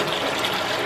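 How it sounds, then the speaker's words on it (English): Water rushes out of a toilet tank as the flapper is lifted, a dense, steady gushing close by for under a second. "I'm going to pull this up, which is going to release the rest of the water out"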